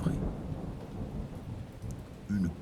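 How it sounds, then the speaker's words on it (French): Rain falls outdoors at a live-action roleplay camp in open countryside, a continuous soft hiss of light rainfall with a brief low rumble near the end, no voices present. "Une petite pluie, pas grand-chose pour la première journée."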